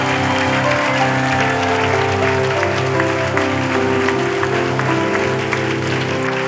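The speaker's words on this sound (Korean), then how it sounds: "우리 하나님께 감사의 영광의 박수 올려드리기를 원합니다" Sustained applause from a church congregation at a healing service, steady and full, mixed with a held musical drone and chords underneath.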